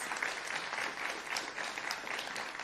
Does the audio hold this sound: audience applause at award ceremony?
yes